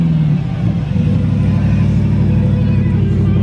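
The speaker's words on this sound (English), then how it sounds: "That's the Hellcat Wrangler." A Hellcat-powered Jeep Wrangler idles and rumbles off-road with a steady, loud, close low-pitched engine drone and a slight rise partway through, with no talking over it.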